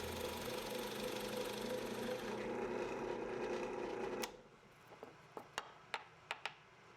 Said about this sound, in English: I'll drill 2 holes partway through the walnut with a 3/4 inch bit.